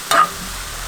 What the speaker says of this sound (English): I rehydrated it, I flavored it, seasoned it, and now it's cooking up.